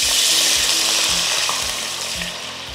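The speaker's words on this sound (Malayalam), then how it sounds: "അതിനായിട്ട് അല്പം വെള്ളം ഒഴിക്കാം." Water splashes into a hot pan for boiling sago for pineapple payasam, giving a loud, steady hiss and sizzle that slowly eases, with faint rhythmic knocking underneath.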